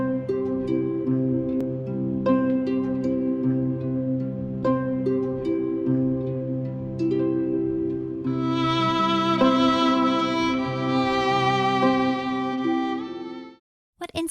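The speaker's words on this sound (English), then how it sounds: "The harp has long strings that players pluck with their fingers." Soft harp arpeggios in a gentle rendition of the carol O Holy Night play steadily, with a brighter bowed violin melody joining over them partway through before the music stops.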